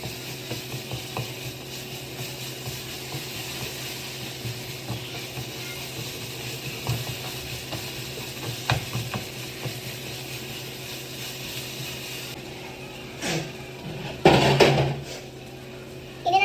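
Masala for a spicy Kerala beef roast is mixed in a pan, with a continuous low sizzle and soft scraping stirs, then a louder clattering burst near the end.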